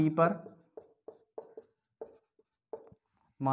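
Chalk or marker writing on a classroom board, short scratchy strokes in uneven bursts between pauses, with a teacher talking at the start and end.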